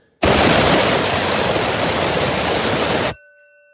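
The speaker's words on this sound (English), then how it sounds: "This is one of Deegan's bells." A J.C. Deagan electric musical bell rings loudly with a harsh, continuous clanging buzz for about three seconds, then stops, leaving a brief metallic ring fading out.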